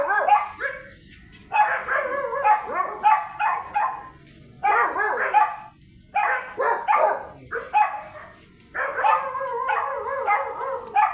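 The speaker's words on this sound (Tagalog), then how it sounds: "Maingay yung aso." A dog barks repeatedly in bursts, loud and nearby, with short pauses between volleys and some yips mixed in, at a rental house under renovation.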